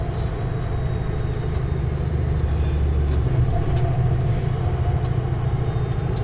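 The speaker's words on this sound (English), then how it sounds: "Engine brakes. Need those." Loaded Super B truck descending a mountain highway with blind corners and hairpins in British Columbia, engine brakes engaged: a steady, loud low rumble with a constant drone throughout, no talking.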